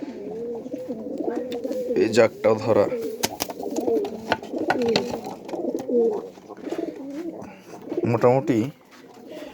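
Caged pigeons coo in repeated, rolling bursts close by, with someone talking over and between the calls.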